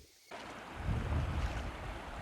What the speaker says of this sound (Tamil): இப்போ மழை பெஞ்சு அங்கேருந்து அழகாக தண்ணி வந்துட்டு இருக்கு பாருங்கள்